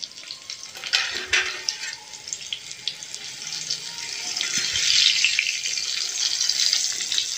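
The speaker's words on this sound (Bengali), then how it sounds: "এরপর ঢেকে আলুটাকে ভাজলে আলুটা সেদ্ধ হয়ে যাবে" Potatoes for egg curry fry in a pan with a bright, hissing sizzle that grows louder and steadier, with a few clinks of stirring nearby.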